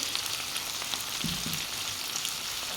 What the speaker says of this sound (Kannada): ಇದನ್ನೀಗ ಚೆನ್ನಾಗಿ ಮಿಕ್ಸ್ ಮಾಡ್ಕೊಳ್ಳೋಣ, ಫ್ರೈ ಮಾಡ್ಕೊಳ್ಳೋಣ